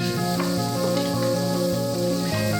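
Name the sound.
chopped onions sautéing in hot oil with spices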